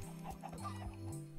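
A Minecraft chicken clucks in a few short, close, low bursts, loud and alone with no talk.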